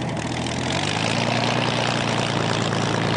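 A Spitfire's piston engine runs at a steady, loud, droning idle while the fighter taxis, a dense continuous rumble with no talk over it.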